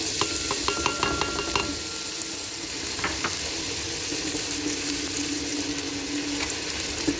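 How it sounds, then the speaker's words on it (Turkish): Onions frying in oil in a pot for a spinach and rice soup, a steady close crackling sizzle throughout with a few light utensil clinks and stirring scrapes early on. "Soğanımızı qowurýas"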